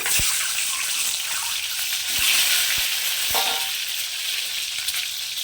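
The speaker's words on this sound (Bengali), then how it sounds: "তো দেখুন তেল গরম হয়ে গেছে এবার ডিমগুলোকে আমি এর মধ্যে দিয়ে দিচ্ছি" Eggs frying in hot oil in a pan for an egg and spinach dish, a steady loud hiss with a few sharp crackles and pops, no talking.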